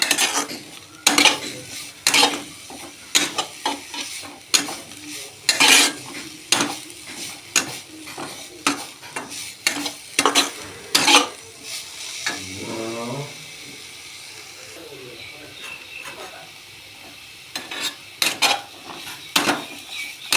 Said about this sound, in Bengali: এরপর ভালো করে নাড়াচাড়া করবো